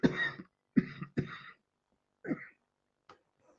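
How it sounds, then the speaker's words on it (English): A person coughs in several rough bursts, a long one followed by two close together, then a lone cough after a pause and a couple of faint small sounds near the end, with no talking. "There goes the coughing again"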